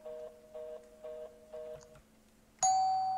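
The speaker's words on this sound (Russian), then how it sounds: "Тут звонят." A doorbell rings in the horror survival video game Case 2: Animatronics Survival, sounding four repeated chime bursts, then a pause, then a single bright sustained ding that slowly fades.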